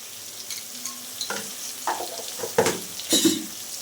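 Onions browning in a pan give a soft, steady sizzle, then salt is added and stirred in, producing several brief scraping, rustling bursts that grow louder toward the end.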